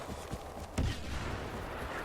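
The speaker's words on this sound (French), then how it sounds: "Le canon à impulsion est pas mal en fait" A pulse cannon fires in Star Wars Battlefront multiplayer on PS4, one sharp blast with a short booming tail over a steady bed of game noise.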